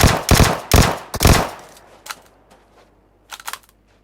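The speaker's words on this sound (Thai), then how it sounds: "ยิงตั้งนานแต่ไม่ตายเพราะกระสุนหมดก่อนเพื่อนรัสซะนั่น" Gunfire from PUBG Mobile on the Karakin map: three loud, close bursts of rapid shots in the first second and a half, then scattered fainter single shots and a short distant burst near the end.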